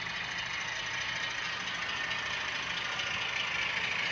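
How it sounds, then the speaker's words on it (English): A model railroad switcher engine pulls a track cleaning car, giving a steady, unbroken motor whir with a grinding rolling hiss at a constant level, close and continuous throughout. "And here comes the switcher with another cleaning car."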